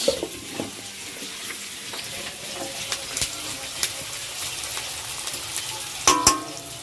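Onion frying in a pan for a marinated chicken curry: a continuous close crackling sizzle with scattered pops and a few clinks of a utensil, a louder clatter near the end.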